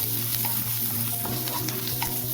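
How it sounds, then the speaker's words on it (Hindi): Chopped onion, ginger and garlic frying together in a pan, a loud continuous sizzle up close with small pops and stirring, nobody speaking. "प्याज अदरक लहसुन सारे को सब अच्छे से भून लेंगे"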